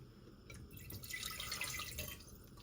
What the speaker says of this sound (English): So I'll just add the water into the cooker